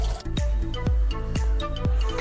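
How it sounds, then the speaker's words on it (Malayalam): Water is poured into the pipe of a homemade bicycle-pedalled water pump, making about five loud, close glugging splashes at a fairly even rhythm. "നമുക്ക് ആദ്യം ഇതിലേക്ക് വെള്ളം ഒഴിക്കണം"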